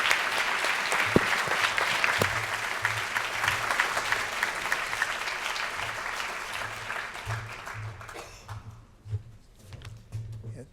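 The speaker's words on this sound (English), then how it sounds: "Let's give Suzanne another round of applause." Audience applause after a botanical garden lecture, a dense sustained round of clapping from a crowd that fades out near the end with a few scattered last claps.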